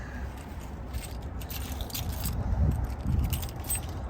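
Keys jangle and rattle in bursts as someone tries to unlock an outdoor storage compartment on a 2022 Keystone Sprinter 35BH fifth-wheel RV, metallic clinks up close.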